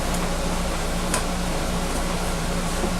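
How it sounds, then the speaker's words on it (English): Air conditioner running in a workshop where an outside vise is being mounted, a steady low hum and broadband hiss that holds evenly throughout at moderate level, with no talking. "you hear the air conditioner in the background"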